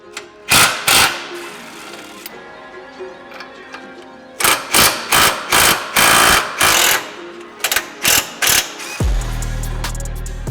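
Ratchet or impact tool working a 19mm bolt and nut off the front of a lower control arm and bracket on a GR86/BRZ-type car, in repeated loud bursts of clicking and whirring with pauses, ending in a steady low hum.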